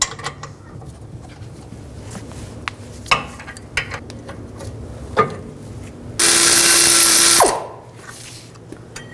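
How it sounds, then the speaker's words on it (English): Rear caliper bracket bolts on a 2010-2016 Cadillac SRX come loose under a ratchet with an 18mm socket: scattered close clicks and knocks, then a loud, steady mechanical whir that lasts about a second before winding down. "Now take this caliper bracket off. Use an 18mm socket. Take these two bolts out."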